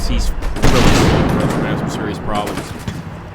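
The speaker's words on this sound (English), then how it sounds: "Our men are still firing." Gunfire from troops in the war game Combat Mission: Shock Force, a loud burst of rattling shots and booming blasts that swells, then trails into scattered, fainter pops, with a voice speaking over it.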